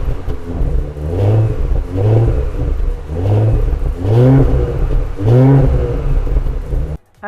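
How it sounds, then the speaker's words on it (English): Quad-exhaust 2021 Audi S5 Sportback engine revving in five repeated blips, each swelling and falling back, loud and close, with a brief cut near the end. "We have quad exhaust in this car, which by the way do sound really,"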